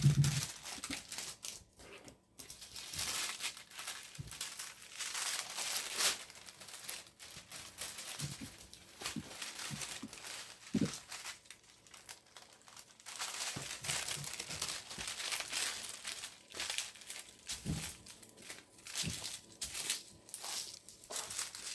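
Tape and a paper sewing pattern peel off a tabletop in the making of a hot water bottle cover, with repeated close crinkling, tearing and rustling bursts at a fairly quiet level.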